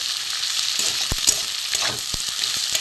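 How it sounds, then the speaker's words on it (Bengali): Potatoes fry in a pan for a leftover-rice panta bhaja dish, giving a steady close sizzle with a few sharp spatula taps. "আলুটা ভাজা হচ্ছে"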